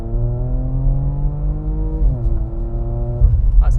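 A Porsche Macan GTS biturbo engine pulls hard under acceleration, its steady rising drone heard from inside the cabin, dipping briefly at a gear change before climbing again, loud and continuous.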